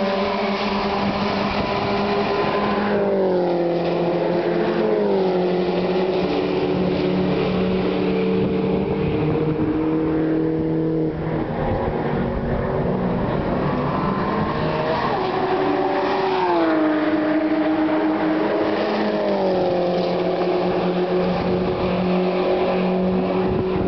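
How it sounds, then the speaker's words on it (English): Ferrari race cars screaming past on a track one after another, high-pitched engines rising and falling with clear Doppler pitch drops as each passes close by, loud and alone. "Here's some more Ferraris. Listen to this."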